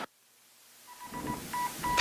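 A telephone in an insurance radio advert gives a quick series of short electronic beeps and dial tones, faint at first and then closer and clearer, with no voices.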